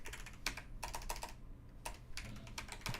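Typing on a computer keyboard: quick bursts of crisp key clicks separated by short pauses, close up with no voices.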